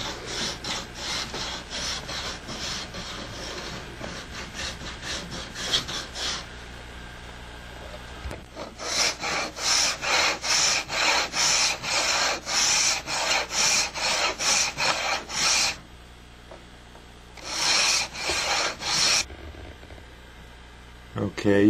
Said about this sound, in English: and then cut the grooves normally